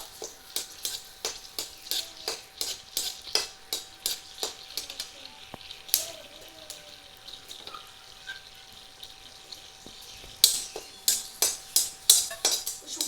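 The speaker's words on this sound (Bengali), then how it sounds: "দিয়ে দেবো তেজপাতা দিয়ে দেবো শুকনো লঙ্কা ভেজে নেবো" Bay leaves and dried red chilies frying in oil in a pan, with quiet sizzling under a steady run of sharp, rhythmic taps and clinks of stirring, a few louder bursts near the end.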